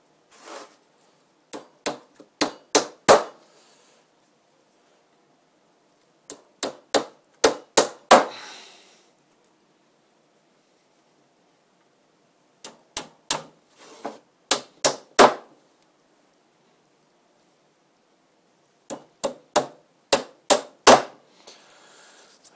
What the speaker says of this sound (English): And I'll finish up the rest of the nails.